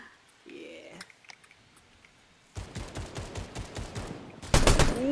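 Gunfire in a shooter video game, a quiet stretch broken by sparse taps, then a rapid rattling burst of automatic shots, ending in a louder, sharper volley, with voices talking over it.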